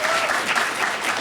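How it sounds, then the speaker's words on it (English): A crowd at a fan event celebrating classic Lara Croft voice actresses applauds in a steady, dense wash of clapping, close and full for the whole moment. "I'm just looking for cheap applause."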